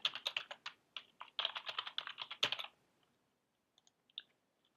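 A wallet password being typed on a Mac computer keyboard: a quick run of soft, close key clicks for almost three seconds, then a few isolated taps, faint overall.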